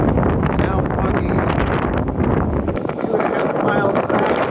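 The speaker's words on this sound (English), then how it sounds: "It's very windy." Strong cold wind buffets the microphone outdoors on a November walk, a loud, continuous rumbling roar that eases slightly toward the end, with a voice speaking beneath it.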